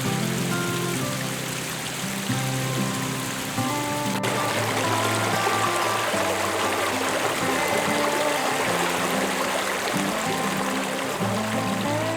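Stream water at a swimming hole in Woodham National Park flows and trickles continuously, a close, steady babble of water over rocks with no voices.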